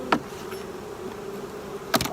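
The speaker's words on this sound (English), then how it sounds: "I saw bees flying in and out of each box." Honeybees around hive boxes set up after a removal from floor joists in League City, Texas, give a faint, steady hum, broken by two sharp knocks at the start and end.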